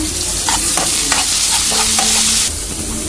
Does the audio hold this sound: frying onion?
yes